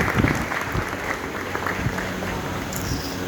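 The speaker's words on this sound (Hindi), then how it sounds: "तो उनके लिए भी एक बार तालियां होनी चाहिए।" Steady, dense applause from the audience at an ITI convocation ceremony, honouring the students in current training; continuous clapping fills the hall at moderate loudness, with no clear voices over it.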